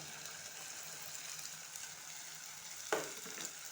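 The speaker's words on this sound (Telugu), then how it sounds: "బెండకాయలు వేసి ఇలా కలిపేసుకోవాలి" Okra is stir-fried and mixed in a pan, giving a soft, steady sizzle with a single sharp clink of a utensil near the end.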